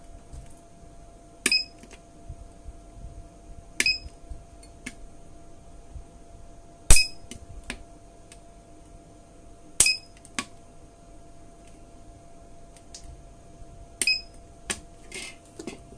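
A mini spot welder firing on metal: sharp, crackling electric snaps that come singly every two to three seconds over a faint steady hum, with quiet gaps in between.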